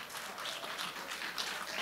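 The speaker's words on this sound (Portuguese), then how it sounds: "Aplauda o Senhor." A church congregation applauds together, a steady wash of many hands clapping at moderate volume with no voices standing out.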